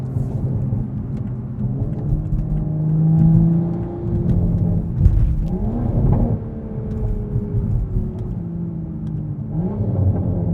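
A Toyota Supra 3.0 Premium accelerates hard on a night drive, its engine rising in pitch through revs with a shift, a steady loud rumble and whir heard from inside the car.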